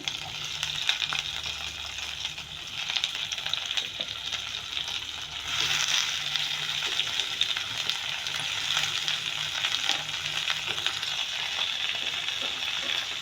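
Cut vegetables splutter and crackle steadily as they fry in a pan of hot oil for a Telugu-style chutney. A continuous close sizzle with sharp pops scattered throughout, no voices.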